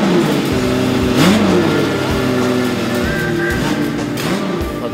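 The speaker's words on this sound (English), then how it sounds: "And here I can see and hear the old cars." Old Porsche cars at a museum sound night rev their engines nearby, with loud repeated rises and falls in pitch over a continuous rumbling idle.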